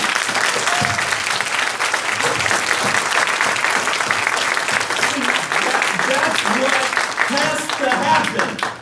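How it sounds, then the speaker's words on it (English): Loud, sustained applause from a room full of people at an awards symposium on recovery, steady clapping filling the whole stretch with scattered cheers and murmurs underneath. "How many people in this room believe in recovery? If you do, clap your hands, please."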